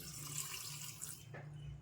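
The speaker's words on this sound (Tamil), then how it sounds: "கொஞ்சம் தண்ணி" Water pours steadily in a continuous broadband stream into a mixer jar holding curd, asafoetida and amla pieces for gooseberry juice, a close, even rush with a low hum underneath and no talking.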